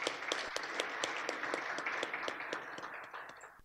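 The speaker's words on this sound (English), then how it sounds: "Dr. Zhu Ming. Please, a round of applause for him" An audience claps in applause at a seminar, a steady patter of many hands that fades toward the end.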